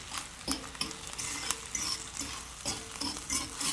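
Scrambled freeze-dried eggs cooked lightly in a pan: a utensil stirring and scraping in irregular strokes against the pan over a soft, steady sizzle, close by with no talking.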